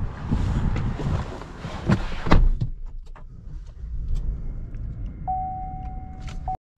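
A Chevy truck with a 2.7L turbocharged four-cylinder drives along, a steady low rumble with wind noise and a few knocks, ending in a brief steady electronic tone before cutting off.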